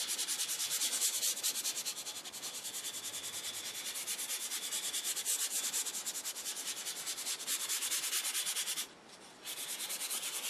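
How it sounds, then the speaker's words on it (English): Wood finish is scrubbed across the grain on a radio cabinet being restored. The rubbing strokes are close and continuous, with one brief pause near the end. "So I want to scrub this going across the grain. I want to work this into everywhere."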